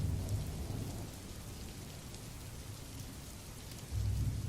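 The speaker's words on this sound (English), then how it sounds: "Puddles covered the ground, and the sound of the rain filled the air." Steady rain pours down with low rumbles of thunder swelling at the start and again near the end, a soft, even wash of sound with no voices.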